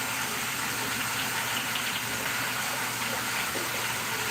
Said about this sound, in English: I'm going to rinse. Wash and rinse.